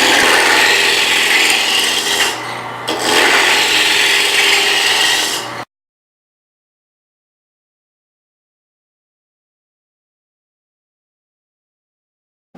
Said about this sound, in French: je viens dégrossir avec un ciseau qui s'appelle une gouge